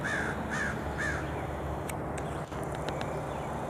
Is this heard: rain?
no